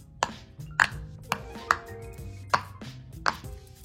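A glittery glow-in-the-dark pop-it fidget toy gets pressed, giving five or six soft, sharp pops at a steady pace, close by and fairly quiet, with a light rustle between presses.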